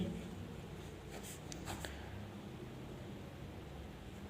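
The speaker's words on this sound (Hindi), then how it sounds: "तो लिखते हैं हम" A pen scratches across paper in short soft strokes, faint and close, with no voices.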